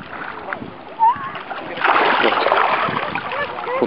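A person bathing in the Dead Sea, with soft splashes and sloshing water close by, a brief splash then a broader wash of water under a voice speaking.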